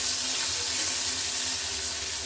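Curry leaves and tomato frying in a pan for a small fish curry, a steady, even sizzle and hiss that runs unbroken throughout, with no talking.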